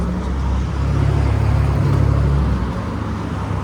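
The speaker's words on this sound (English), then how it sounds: "There's been a lot of traffic for an early morning" Early-morning road traffic in Cynthiana, Kentucky, a vehicle passing close by with a low engine rumble that swells and fades over a few seconds.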